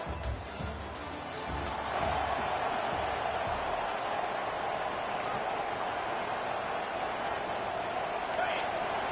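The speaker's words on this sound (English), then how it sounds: "Listen to the crowd energy here in the early going." Stadium crowd at a college football game in Madison, a broad continuous roar from a big audience, with commentators talking over it near the start.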